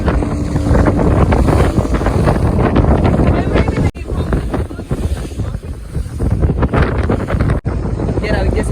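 Strong sea wind hits a parasailing boat out on the water, making a loud, continuous roar and buffeting on the microphone with only two brief dropouts.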